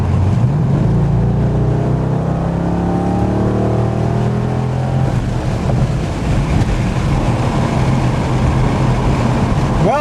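A car engine running on 87 octane fuel with a water vapor injection system revs up with a rising pitch, then settles into a loud, rough idle-like drone; no talking.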